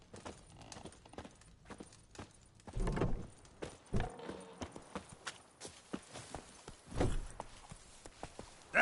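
Roach, Geralt's horse in The Witcher 3: Wild Hunt, walks with clear, close clip-clopping hooves in an uneven rhythm, with a couple of heavier thuds among the steps.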